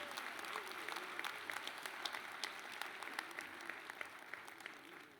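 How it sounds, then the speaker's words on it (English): Applause from an audience at a university Founders' Day celebration, a sustained, fairly distant patter of many hands clapping with a steady density, easing off slightly at the end. "Another round of applause"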